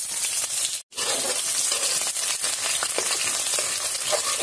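Onions and cumin fry in hot mustard oil in a kadai, giving a loud, steady sizzle close up that breaks off for a moment near the start and then carries on without a pause.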